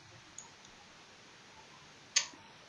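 In the video game Jalopy, a car key slides into the ignition with a faint tick and then one sharper metallic click against near silence.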